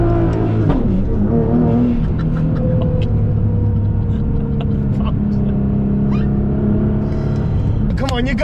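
An 800bhp Nissan GT-R accelerating hard at full throttle, a loud, rising engine roar heard from inside the cabin with shifting pitch and gear changes, while people talk and shout over it.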